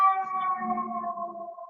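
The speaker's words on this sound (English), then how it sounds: "is that a siren?" A siren in Chicago, picked up over a video call, gives a sustained wavering wail that drifts slightly downward in pitch, heard alone for a moment.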